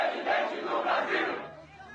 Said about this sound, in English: He points to this, the rapturous applause he's receiving as he travels the country